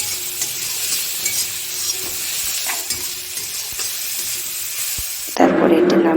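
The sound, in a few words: chopped tomato being stirred and fried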